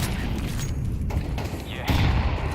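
A grenade in Counter-Strike goes off with one heavy, close boom late in the moment, rising out of a rumble of gunfire and game noise.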